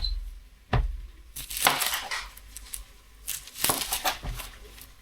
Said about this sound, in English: let's cut up our onion